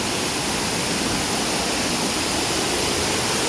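A small waterfall, a mini falls, rushes in a steady, dense roar of falling water, continuous and close with no pause or voices.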